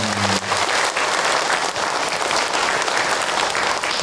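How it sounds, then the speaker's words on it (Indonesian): Audience at an Islamic religious lecture applauding, a dense, even roar of many hands clapping that holds steady for several seconds, with a faint voice at the very start. "Tepuk tangan Bu untuk Ahilman."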